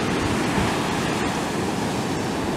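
Ocean surf at Short Point Beach in Merimbula rushes in a steady, close wash of breaking waves, with a little wind buffeting the microphone.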